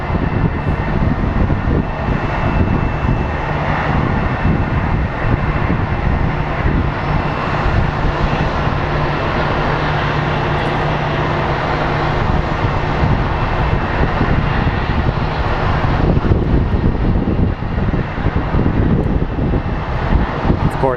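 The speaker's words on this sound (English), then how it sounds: "The United flight should be on final very shortly." A United Airlines airliner on final approach at Phoenix Sky Harbor International Airport, a loud, continuous jet engine roar with rumble and wind noise, sustained throughout and swelling slightly near the end.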